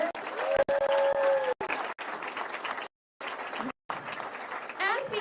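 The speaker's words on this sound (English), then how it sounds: "give everybody who has waited patiently a round of applause" An audience at a bowling alley reopening ceremony applauds in a steady wash of clapping that breaks off in brief gaps, with a speaker's voice heard over it.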